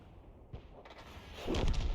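A 105 leFH18B2 artillery gun fires in World of Tanks: a soft thump first, then a louder, heavier boom with a rumbling tail near the end.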